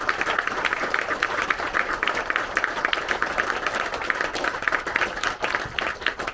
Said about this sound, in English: So big round of applause for you.